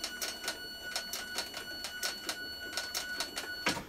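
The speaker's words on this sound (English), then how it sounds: "So I'm just back stitching about 4 or 5 stitches on the back." A sewing machine back stitching a leather notebook cover, making a quick run of evenly spaced mechanical clicks and whirs at close range, with one sharper clack near the end.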